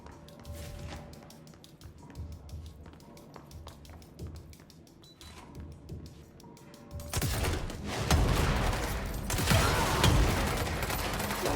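Gunfire in the video game Control: scattered sharp taps and shots that swell into dense, loud bursts of rapid fire over the second half, with no talking.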